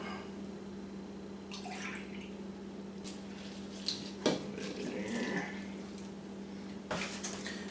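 About two and a half cups of milk pour into a dish for a holiday breakfast casserole, making a soft, trickling liquid splash over a low background hum, with a few faint clinks.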